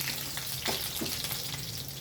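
Spice tempering crackling in hot oil for dal, a close, quiet sizzle with a few sharp pops.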